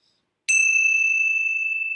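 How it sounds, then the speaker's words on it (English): A single bell is struck once to close a peace meditation, giving a bright clear ring that sustains steadily and alone after a brief silence. "I'm going to close our time with the ringing of the bells."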